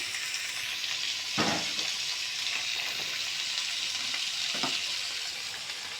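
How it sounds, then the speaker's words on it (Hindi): Chicken pieces frying in a tablespoon of olive oil in a pan for Turkish chicken soup, a soft steady sizzle with a couple of brief stirring bursts, no talk. "और ये चिकन जो है इसमें रख के थोड़ा सा इसको हम फ्राई करेंगे।"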